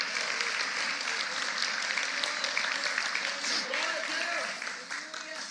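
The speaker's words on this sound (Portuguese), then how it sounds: "Pode aplaudir ao Senhor Jesus." Church congregation applauding during a sermon, a steady wash of many hands clapping, fairly loud and sustained, with a voice speaking over it and fading slightly at the end.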